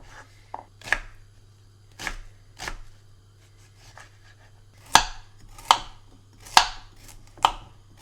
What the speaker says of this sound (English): Just chopping it roughly.